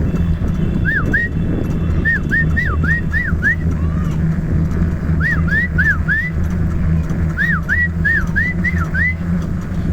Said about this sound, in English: I'm going to whistle to the dog